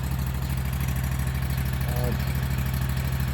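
A Scag Tiger Cat 2 mower with a swapped engine runs at a steady idle, its low, pulsing drone loud and close, with a brief voice heard over it.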